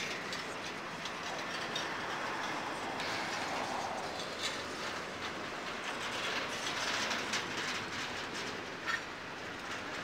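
A CSX freight train, the F767, led by an AC6000 locomotive, rolls past with a string of container cars. It makes a steady, loud rumble with metallic clatter and squeal throughout, and no voices are heard.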